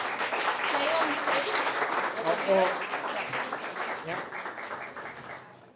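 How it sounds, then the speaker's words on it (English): Audience applause at a live pitch event, a dense wash of clapping that swells and then tapers off over several seconds, with voices talking over it. "So big applause for Coffee Up."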